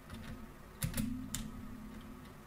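Computer keyboard keys being pressed, a few soft separate clacks of the spacebar, close and quiet over faint steady background hum.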